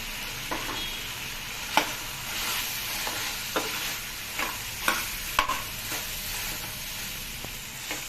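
Turmeric and garam masala powder frying in a pan with ginger-garlic paste for Telugu chicken pulusu, with a steady soft sizzle broken by several sharp spoon scrapes and taps as the spices are stirred.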